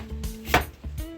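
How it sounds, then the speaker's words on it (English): A knife chopping cabbage on a board for Jamaican steamed cabbage: a few quick, close thuds within about a second, one sharper cut in the middle, no voices. "I'm finished cutting my cabbage"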